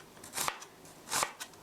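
A knife slices half an onion thinly on a board, with two crisp, crackly cuts about a second apart, close and fairly quiet, with no talking.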